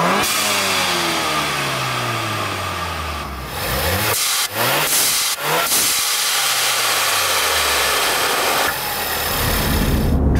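A 2014 Ford Fusion 2.0 EcoBoost with a Turbosmart dual-port blow-off valve revs up through the gears, then lets off with sharp whooshing vents between pulls, loud and close with no talk.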